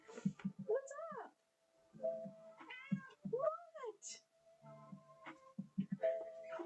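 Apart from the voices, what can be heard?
pet cat purring loudly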